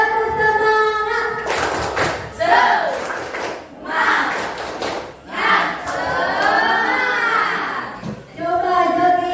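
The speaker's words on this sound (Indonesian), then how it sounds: "Ulang lagi ya. Tepuk semangat." Children in an inclusive classroom repeat the 'tepuk semangat' spirit clap together, chanting loudly in unison with rhythmic clapping bursts, while a teacher's voice leads between the group rounds.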